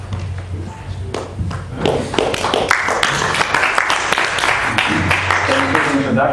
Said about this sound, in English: So please, a big applause for Benjamin Bommhardt.